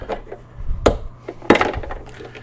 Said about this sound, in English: So you're gonna take your trim removal tool now. We'll get it in here and start popping these out as we go up.